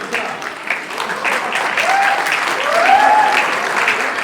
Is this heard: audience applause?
yes